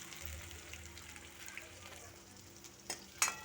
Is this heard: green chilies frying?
yes